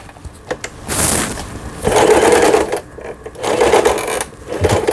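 A Lion sewing machine runs after repair, stitching in bursts of rapid mechanical chatter separated by brief pauses, loud and close with no talking.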